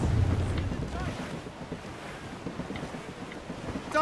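Wind streams past a sailing ship at sea in the game Assassin's Creed Rogue, a moderate rushing gust with buffeting against the microphone and a faint wash of waves underneath, with no voices.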